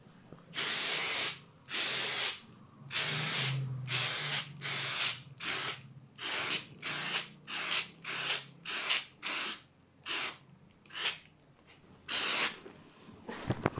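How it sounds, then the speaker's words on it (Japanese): Spray adhesive, a rubber-based contact cement in an aerosol can, is sprayed onto plywood for bonding on a cool day of about 12–13°C. Roughly sixteen loud, close hissing bursts, each about half a second long, come in a steady rhythm with brief gaps between them, and no talk. "まさにその広い面の塗り伸ばしがこのスプレー型やったらめっちゃ簡単になるんですね"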